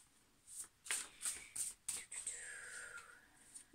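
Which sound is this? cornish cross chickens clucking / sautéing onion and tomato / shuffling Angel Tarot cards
shuffling Angel Tarot cards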